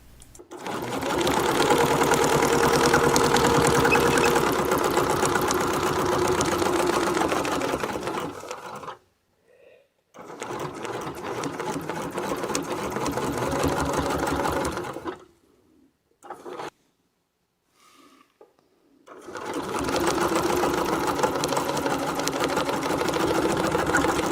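A sewing machine fitted with a ruler foot stitches a quilt along a template, running in long steady bursts of rapid needle strokes, stopping twice for short pauses before starting again, close and loud.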